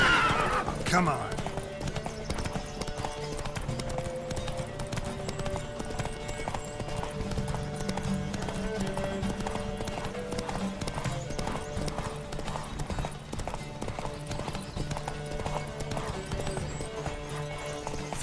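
Horse hooves clip-clop in a rapid galloping rhythm throughout, with a brief whinny near the start, under music and occasional talking from the video game The Witcher 3: Wild Hunt.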